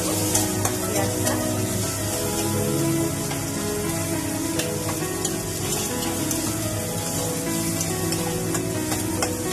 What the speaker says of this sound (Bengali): ভাজা করে দেবো পেঁয়াজটা।